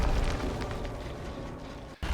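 In the video game Dead by Daylight, a generator explodes as a loud, deep boom that rolls into a sustained rumble and fades over about two seconds, then briefly cuts out before the noise returns.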